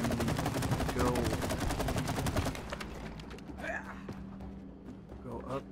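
Rapid video-game gunfire from It Takes Two rattles in a fast automatic burst for about two and a half seconds, then gives way to quieter game sounds while players talk over it.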